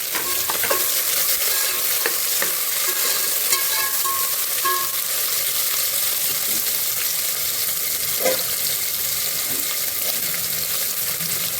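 Chopped onions sizzle and fry in oil in a pressure cooker for vegetable biryani, with a steady crackling hiss throughout and occasional clinks and scrapes of stirring.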